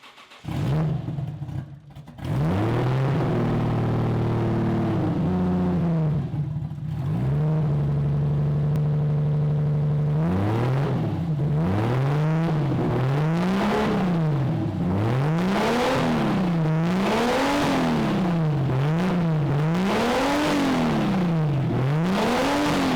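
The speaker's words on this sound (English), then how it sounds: "Now I can turn the car on and it won't be stupid loud sounding like a tractor" A Toyota Supra's 1JZGTE engine revving repeatedly in rising and falling waves through a new v-band downpipe, loud and close, with a deep raspy exhaust note between idle stretches.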